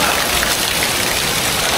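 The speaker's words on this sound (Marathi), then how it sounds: "पाऊस पण आहे मित्रांनो, जोरात येतोय" Heavy rain pours down during an outdoor Janmashtami festival gathering, a dense, loud, continuous roar of drops with no voices.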